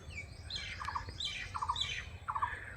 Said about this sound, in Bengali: পাখির ডাক ছাড়া কিচ্ছু শোনা যাচ্ছে না এখানে।